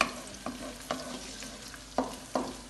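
Garlic stirred into hot oil in a pan, a faint continuous sizzle broken by about five soft spatula scrapes at irregular intervals, close but quiet, no talking.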